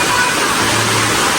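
Steady rain pouring around a house, a dense loud wash of water with a low rumble beneath, continuous without a break.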